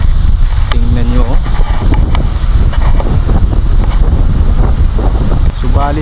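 Steady wind buffets the microphone outdoors, a constant broadband rush with voices and faint calls breaking through intermittently.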